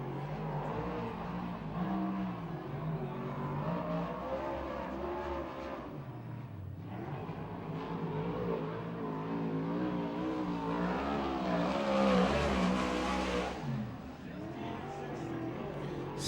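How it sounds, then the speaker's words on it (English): A Kistler Mopar-powered USAC/CRA sprint car engine roars and revs loudly on the dirt racetrack at Tulare, California, swelling toward a peak before easing off, with an announcer's voice running over it throughout. "Mopar, a Kistler Mopar under the hood, so for you Mopar fans, and they sound just a bit different than the Chevrolets"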